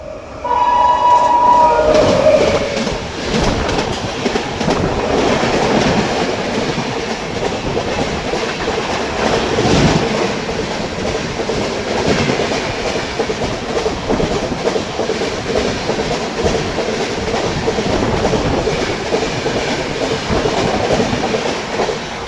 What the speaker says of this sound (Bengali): ওপাশ থেকে আসছে 123-20 গোয়ালিয়র এক্সপ্রেস